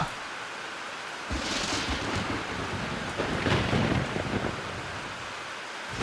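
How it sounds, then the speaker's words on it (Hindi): Heavy rain pours steadily while thunder rumbles and rolls through the middle, loud and close, with no voices. "बारिश लगातार हो रही थी"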